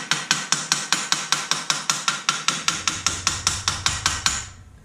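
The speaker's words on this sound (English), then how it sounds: "give that some taps" A hammer taps the corroded swivel bracket of a Mercury 110 9.8HP outboard motor: a steady, rapid run of about twenty sharp metallic knocks, close up, with no talk.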